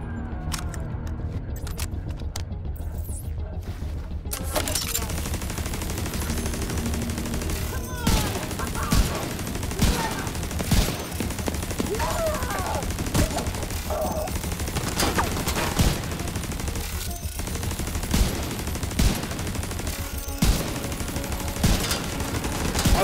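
Gunfire in the video game The Division 2 during an assault on an apartment complex: a loud, dense barrage of shots and bursts rolls on almost without pause after a brief quieter opening, set against a constant wash of game noise.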